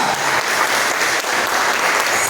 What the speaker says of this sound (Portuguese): Vamos aplaudir bem forte ao Senhor Jesus.